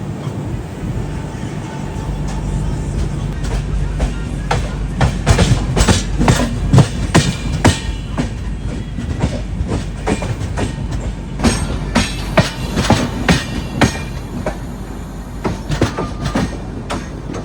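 Jamnagar–Tirunelveli Express running on an electrified line toward Panvel, heard from inside: a loud continuous rumble with dense, rapid clickety-clack of wheels over rail joints throughout.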